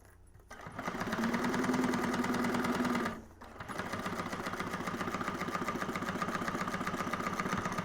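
A sewing machine runs a seam across the lining of a Scottie convertible bag, a steady rapid mechanical whir near the microphone that pauses briefly and then resumes at an even pace.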